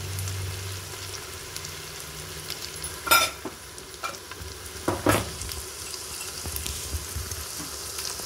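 Ginger, garlic and turmeric stirring and frying in a pan for goat leg paya curry, a steady low sizzle with a few sharp clinks of a spoon against the pan, close and alone.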